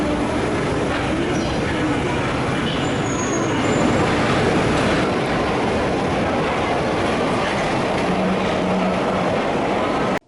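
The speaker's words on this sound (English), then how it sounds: "We rode the Metro 10 once, from Sèvres-Babylon to Cluny-la-Sorbonne" Steady, loud rumble of a Paris Metro Line 10 train riding through the tunnels, continuous and close from inside the car, with no voices.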